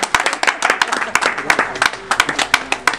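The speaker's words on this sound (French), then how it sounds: "On applaudit, non?" An audience claps at a music association event in Mangamba, with quick uneven hand claps ringing out close and loud for the whole stretch.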